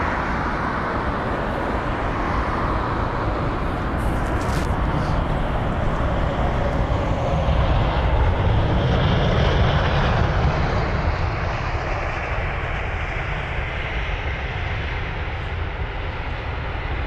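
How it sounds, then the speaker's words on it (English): A British Airways Airbus A380 landing on runway 27R at London Heathrow, a loud, steady, broadband jet roar that swells slightly mid-pass and holds as a continuous rumble from a nearby vantage. "Here it is, runway 27 right for its arrival for the British Airways A380."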